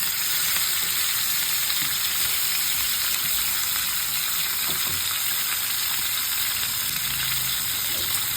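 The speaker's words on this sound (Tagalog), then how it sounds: "Magpiprito muna tayo. Ituin muna natin ang ating kasim." Pork shoulder with a little fat frying in a pan for adobo, a steady close sizzle with light crackle running evenly throughout, no voices.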